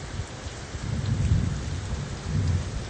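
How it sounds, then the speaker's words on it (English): Thunder from a nearby thunderstorm cell in Miami rolls as a low, continuous rumble under steady rain, swelling and easing over a few seconds with no voices. "some of the thunder I'm hearing is likely from that cell"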